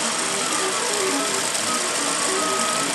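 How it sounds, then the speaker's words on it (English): A computerized sewing machine stitches along a marked line with a continuous, fairly loud mechanical whir and a faint electronic tone running through it, without any talking. "It went right to that line and did the stitching line right on that line."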